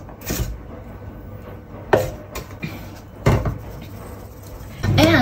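A Chinese cleaver chops celery on a cutting board in a home kitchen, giving a few sharp, separate thuds spaced irregularly apart with quiet pauses between them, close and fairly loud.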